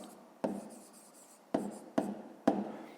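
Pen marks on paper while writing out a fifth-grade maths exercise: four sharp taps or strokes, each fading into a soft scratch, with quiet pauses between them.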